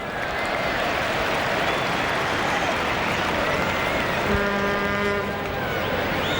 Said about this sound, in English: it's another very large crowd at the Telstra Dome